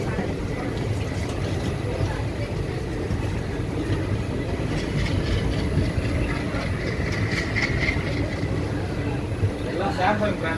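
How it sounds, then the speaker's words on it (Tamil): An express train entering Tiruchendur railway station rumbles steadily, the engine drone and rolling wheels filling the air with a constant, fairly loud mechanical noise and occasional higher squeals. "வண்டி திருச்செந்தூர் ரயில்வே ஸ்டேஷனுக்குள்ளே என்டர் ஆகுது"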